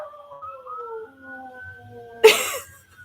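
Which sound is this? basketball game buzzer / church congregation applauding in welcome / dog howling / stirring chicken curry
dog howling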